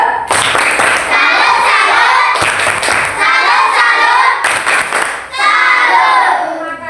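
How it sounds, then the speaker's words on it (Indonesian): A classroom of children bursts into three rounds of rhythmic clapping and cheering voices, loud and close, each round cut by a sharp thump. "Tepuk salut."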